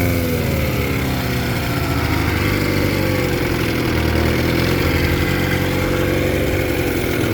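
A 1976 Johnson 6 hp outboard motor running after a carburetor rebuild, a loud, steady buzzing drone with slight shifts in pitch, close up and uninterrupted by speech.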